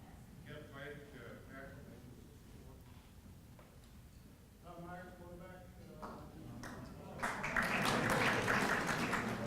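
Northwestern graduates at a homecoming luncheon burst into loud applause and cheering near the end, after a stretch of murmured talk in a large room.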